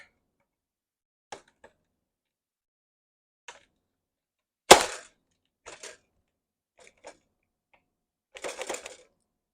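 Scattered plastic clicks and taps as a Nerf Longstrike barrel is pushed onto a plastic knockoff toy blaster, with one sharper snap midway and a brief rattling cluster near the end, close and otherwise quiet.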